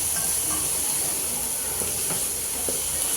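Cut spiny gourd and potato with onion sizzle in hot oil in a pan, a steady loud hiss of frying with faint crackles throughout, no one talking.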